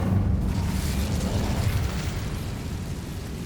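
Incendio fire spell cast in the Hogwarts Legacy video game, a loud continuous roaring whoosh of flame that sustains for several seconds before easing slightly.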